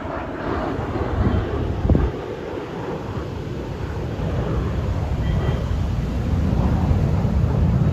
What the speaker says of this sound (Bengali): দেখো ফাইটার জেট।